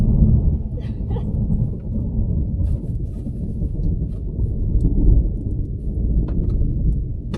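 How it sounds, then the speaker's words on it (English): Thunderstorm over the Pampa in Patagonia, with a deep continuous rumble of rolling thunder and rain noise filling the scene, loud and sustained, plus a few faint higher chirps. "This is the storms in the Pampa, in Patagonia."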